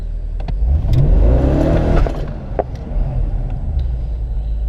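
A rebuilt BMW 645 revs and accelerates hard as its tires spin briefly, a loud, close engine roar that rises and then settles into a rumble.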